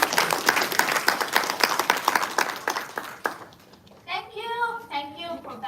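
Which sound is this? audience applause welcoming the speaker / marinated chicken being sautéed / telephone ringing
audience applause welcoming the speaker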